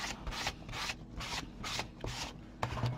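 Rhythmic hand sanding of small paint pots, repeated back-and-forth rasping strokes at a steady pace, close and fairly quiet.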